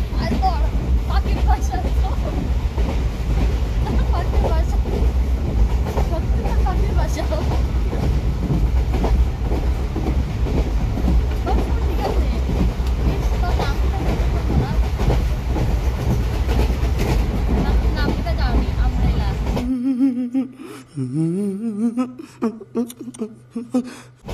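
Inside a moving train, a loud continuous rumble with rhythmic clickety-clack of the wheels over the rails, with voices chattering beneath it; near the end the train noise drops away and close speech takes over.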